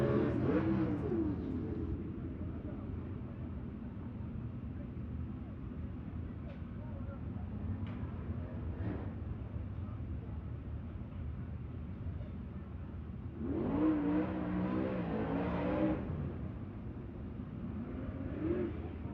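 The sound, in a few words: Jeep engine revving at a race track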